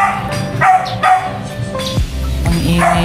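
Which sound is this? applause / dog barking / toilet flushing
dog barking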